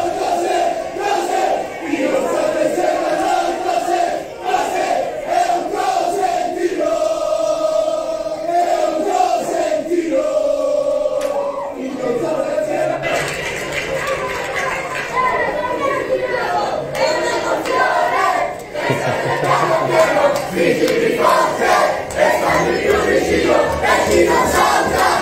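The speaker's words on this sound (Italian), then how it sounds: "il ritornello di questi tifosi è ovviamente forte" Calabrian football fans at the Cosenza–Catanzaro derby chant a loud, sustained refrain in a packed stadium, a massed rhythmic roar of voices that swells and shifts over about twenty-five seconds.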